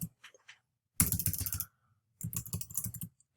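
Bursts of computer keyboard typing while live coding a solitaire game, two quick clusters of close, crisp keystrokes separated by short pauses, with a few light taps at the start.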